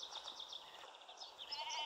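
Faint, high-pitched sheep bleats in a short wavering series, heard alone with no talking.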